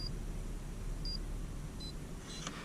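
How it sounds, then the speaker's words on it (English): A camera or Edelkrone Slider Plus X motion rig sets up to record inside a car, giving three short, clean electronic beeps about a second apart, followed by a brief click, against a quiet background hum. "Wait for the beeps."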